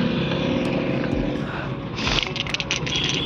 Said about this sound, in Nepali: यहाँ बाइकर्सहरू पनि आउँदैछ